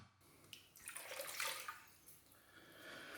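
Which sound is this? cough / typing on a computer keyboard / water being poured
water being poured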